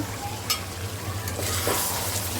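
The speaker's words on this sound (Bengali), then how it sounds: "এখানে মাংসটা সুন্দর করে কষিয়ে নিচ্ছি রান্না করব মাংসটা" Meat sautéing in a pan with pumpkin and greens, a close steady sizzle with a few stirring scrapes, and no one speaking.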